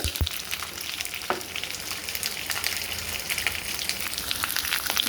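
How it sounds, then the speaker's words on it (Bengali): Kundri frying in a pan with salt and turmeric in a village kitchen, producing a dense, steady crackling sizzle throughout, with a couple of sharp knocks near the start. "এটা একটু ভেজে নেবো নুন নুন আর হলুদ দিয়ে"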